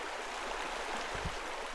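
Water pouring into a pool in Pool Cleaning Simulator, a steady hissing rush that stays even and moderately loud throughout, with a faint low gurgle partway through.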